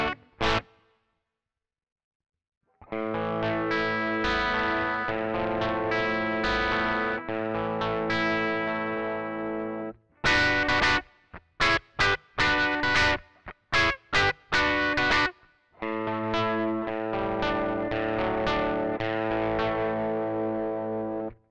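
An electric guitar plays through the Behringer XR18's built-in amp simulator with reverb added, giving distorted sustained chords and bursts of short choppy strums, with ringing tails between the phrases.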